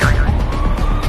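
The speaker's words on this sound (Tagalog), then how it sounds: "Paparating na yung ambulansya para dalhin kayo sa COVID facility." Ambulance siren, a loud wailing tone rising and falling over a short burst, heard close with no talk over it.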